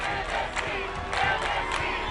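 An excited crowd chants and cheers together in a continuous roar at an American Ninja Warrior competition course, the rhythmic shouts rising and falling in a dense wall of voices.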